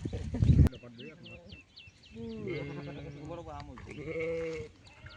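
Goats bleat in a series of wavering, nasal calls close by, several overlapping cries following a brief loud knock at the start.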